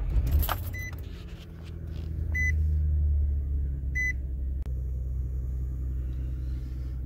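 Truck engine idling while warming up on a cold morning, a low steady rumble close by with a few sharp chimes and clicks from inside the cab, no voices.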